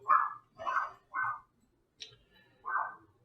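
A dog barks four or five times at close range, loud separate barks with short gaps between them and no talking.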